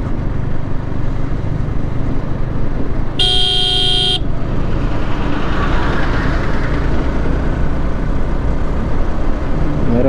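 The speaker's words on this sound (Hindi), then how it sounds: "गाड़ी बगल में से निकली पोंक पोंक करते हुए" A car overtakes a Yamaha R15M motorcycle on the road from Sikandra to Dausa, giving one loud, sustained horn blast of about a second over the constant roar of engines and wind.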